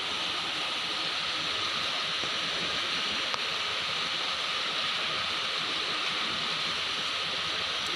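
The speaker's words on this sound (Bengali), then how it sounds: "প্রচুর বৃষ্টি হচ্ছে" Heavy rain pouring steadily in a courtyard, a dense, even wash of hiss that holds unbroken throughout, moderately loud, with no voices.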